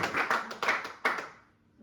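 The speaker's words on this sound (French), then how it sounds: "L'applaudissement." A small concert audience applauds a saxophonist and pianist, a few quick bursts of clapping that come in waves and taper off to near silence by the end.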